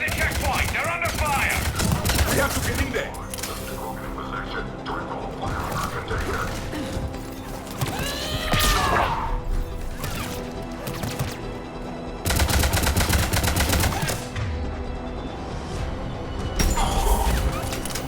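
Sustained gunfire rattles through a Mass Effect 3 combat scene, with rapid machine-gun bursts, sharp impacts and crashing debris layered over game music and shouted voices, the firing swelling in loud stretches across the whole span.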